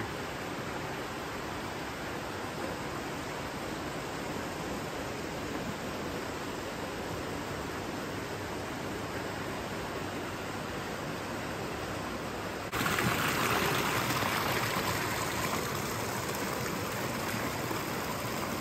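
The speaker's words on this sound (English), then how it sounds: "Look at the water gushing out of that." A steady broadband rush of water gushes continuously, growing louder and brighter toward the end, with no voices.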